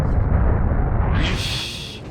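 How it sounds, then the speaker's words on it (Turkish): Vehicle hitting a landmine in the game BeamNG.drive, a loud booming explosion with a sustained roaring rumble that thins into a hissing high tail, alone without talk. "Nasıl patlama ama?"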